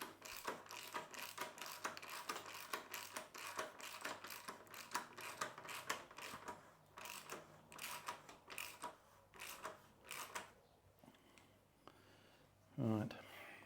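Rapid close clicking of a socket wrench ratchet tightening a fork cap on a Royal Enfield Interceptor 650 motorcycle, dozens of sharp ticks in quick bursts, fading toward the end before a brief voice.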